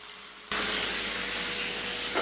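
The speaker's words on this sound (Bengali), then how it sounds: "সেটার কয়েক পিস আমি ভেজে নিচ্ছি" Marinated tandoori chicken pieces drop into hot oil and set off a sudden loud, steady sizzle that keeps going without a break, with no voices over it.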